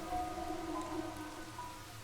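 Steady rain falls in the video game Master Detective Archives: Rain Code, a soft continuous hiss with scattered drops and nobody talking.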